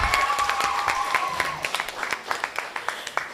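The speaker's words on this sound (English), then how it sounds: "yes, give them a round of applause." Applause at a primary schools Kweyol spelling bee competition: a crowd claps steadily, then thins into scattered, distinct claps toward the end, with some faint voices mixed in.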